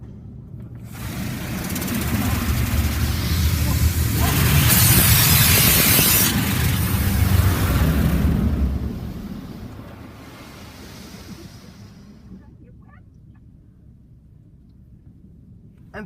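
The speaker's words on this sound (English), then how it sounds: "High impact wash." Inside a Mark VII ChoiceWash XT automatic car wash at a Shell station in Barrie, the high-impact wash sprays water against the car in a loud rushing hiss that swells, peaks and then fades away.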